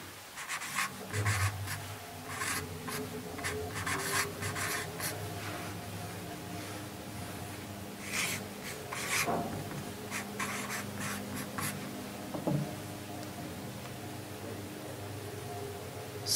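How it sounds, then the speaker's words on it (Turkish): A marker writes in red on a board in a quiet room, making short, scratchy, squeaky strokes in irregular bursts with pauses between them and no talking. "Kriteri kırmızıyla yazalım"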